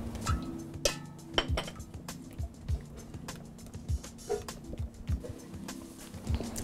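A silicone spatula folds mousse in a bowl, making soft rhythmic scrapes and light clinks against the bowl at a regular pace, close and fairly quiet.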